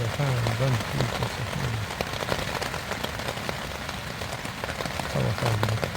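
Steady rain patters and spatters on the Appalachian Trail, a dense hiss of drops broken by scattered sharper hits, with a voice murmuring at the start and again near the end.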